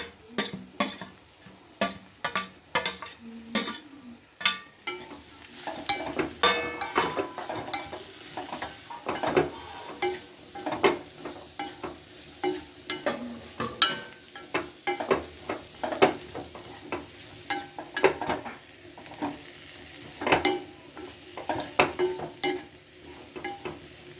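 A pan of papaya and shatavari root pickle being stirred, a spoon scraping and clinking against the metal in an uneven rhythm over a faint sizzle, close up with no talking.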